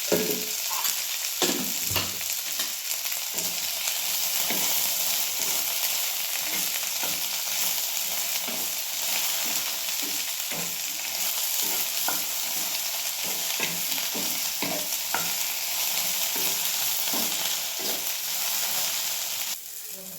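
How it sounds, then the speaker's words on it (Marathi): Okra fries and is stirred in oil in a pan, a constant bright sizzle with frequent scraping and tossing sounds from the spoon running underneath throughout, steady and fairly close, with no talking. "तेल ओतून भाजूया म्हणजे भेंडी आपली लगेच चांगली भाजते"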